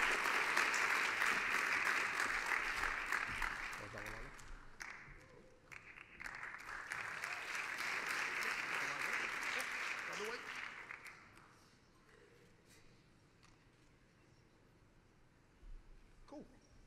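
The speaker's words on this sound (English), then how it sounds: "Give them a round of applause." A round of applause from an audience at an evening innovation awards ceremony, loud and sustained for about ten seconds, then fading to scattered claps and room noise.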